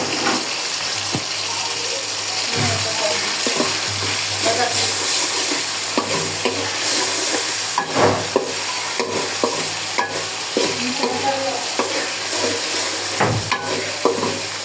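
Spices frying in oil for pulao, a steady close sizzle with occasional stirring scrapes and clinks throughout, no voices.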